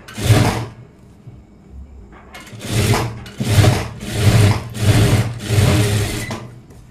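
A sewing machine stitches a seam on a puff-sleeve blouse in a string of short, rhythmic motor bursts, one isolated run followed by about five close repeats, loud and near.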